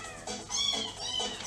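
Cat meows arranged into the carol Oh Come All Ye Faithful, from a 1992 recording: a string of pitched, drawn-out meows forming a melody over a backing track, clear and fairly loud.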